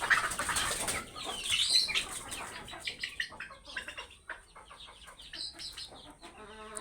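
Chickens in a poultry shed's egg-laying chamber cluck and squawk nearby, with a burst of wing flapping at the start followed by irregular, close clucks.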